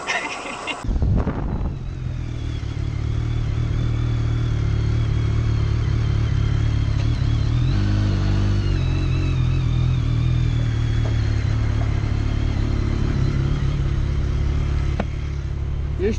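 Motorcycle engine running close by on a road, a loud continuous rumble with shifting pitch after a brief sharp start, lasting throughout.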